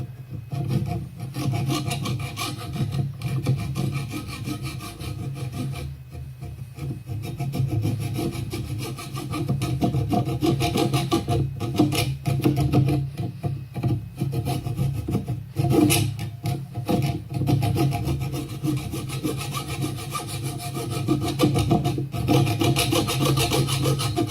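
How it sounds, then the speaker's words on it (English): Steady hand sawing through a metal bolt on a Bridgeport milling machine, with a continuous rasping back-and-forth stroke that holds loud and unbroken throughout, no speech. "I'm going to have to saw through that."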